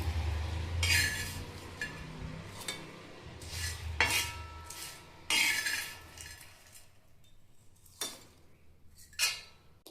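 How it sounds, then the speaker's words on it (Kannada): Cooked red chilli chutney for a North Karnataka recipe is scooped into a mixer jar, with scattered metal clinks and scraping of a spoon against pots and the jar, close and moderately loud, no talk. "ಇದನ್ನ ನಾನು ಮಿಕ್ಸರ್ ಜಾರಿಗೆ ಹಾಕೊಳತ್ತೀನಿ ರೀ"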